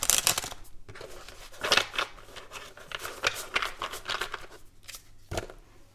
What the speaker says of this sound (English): This is a big deck, so it's harder to shuffle.